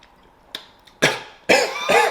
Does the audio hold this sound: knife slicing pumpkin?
no